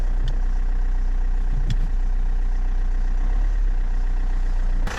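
An Alfa Romeo Giulietta engine idles steadily just after starting, following a clutch replacement. It gives a constant, even hum with no change in revs and a couple of faint clicks.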